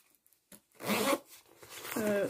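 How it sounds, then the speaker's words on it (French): A zipper on a sauna sweat belt is drawn in a couple of short rasping pulls, close and fairly loud, with pauses between them. "Vous avez une fermeture éclair"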